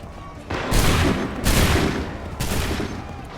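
Massed musket volleys in Assassin's Creed III ring out as three loud, sharp bursts of simultaneous gunfire, each trailing into a rumbling decay, with brief quieter gaps between them.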